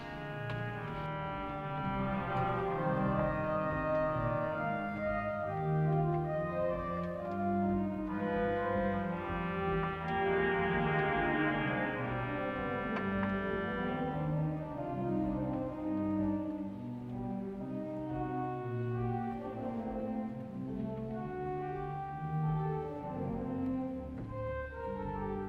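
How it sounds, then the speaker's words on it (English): A Willis pipe organ in the church of St Matthew-in-the-City sounds rich, full chords with reed stops added, a dense, buzzy sustained texture that moves slowly and stays fairly quiet. "To that we can add different pitches, different colours, and indeed different types of sounds, such as reeds, which change the sound quality completely."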